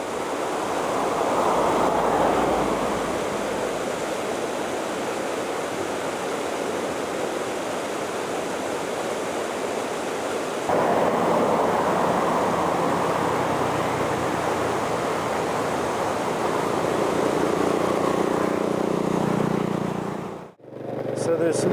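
Steady rush of river water flowing along a rural road on the Samoeng Loop in Thailand, a continuous broadband roar that swells and shifts slightly, with a brief dropout near the end.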